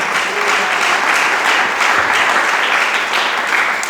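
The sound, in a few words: congregation applause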